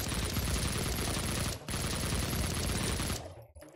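Rapid automatic gunfire in the retro shooter Project Warlock, a dense continuous burst that pauses briefly, resumes, then cuts off near the end.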